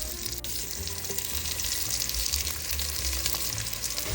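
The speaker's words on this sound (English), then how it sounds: "I'm going to start layering the potatoes in the hot oil" Potato slices fry in hot homemade ghee, a dense, steady sizzle and crackle close by with faint scraping from the pan, no talking.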